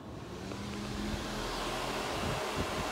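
A Mercedes W124 electric cooling fan runs with the key switched on, giving a steady, broadband whooshing hum with a low rumble underneath that holds even for the whole stretch.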